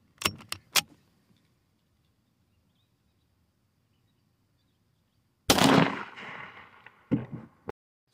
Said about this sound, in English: we got the Kimber Night Patrol in 45 ACP, and we'll be shooting the 230 grain Federal hollow point